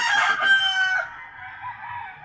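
A rooster crows once nearby, a loud drawn-out call that fades into quieter clucking and farmyard murmur.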